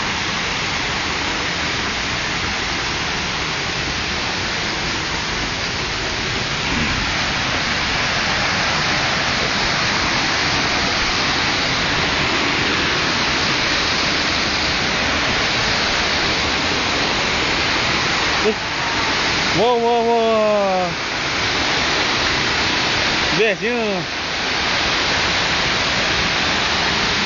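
Heavy rain pours steadily on a mountain, a dense continuous wash of hiss that fills the whole stretch, with brief spoken voices breaking in near the end.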